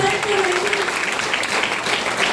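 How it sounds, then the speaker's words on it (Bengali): Applause from an audience thanking the trainer at a training session, a dense, steady wash of clapping hands that carries evenly from start to finish with no talking over it. "সেই স্যারের জন্য একটা জোরদার হাততালি।"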